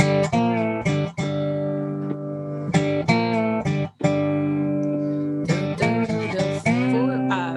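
An amplified guitar plays a bluesy riff of plucked notes and chords with sliding pitch changes, rising into a higher octave.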